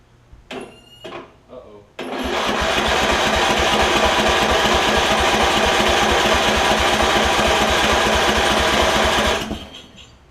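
After a few seconds of brief talk, a Craftsman riding lawn mower engine cranks loudly on a new battery for about seven seconds with a rapid, rhythmic churning, then stops without catching.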